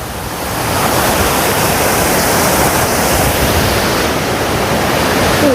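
A large waterfall on the Appalachian Trail in rainy weather roars as a loud, continuous rush of falling water that swells in over the first second and then holds steady, close by and alone.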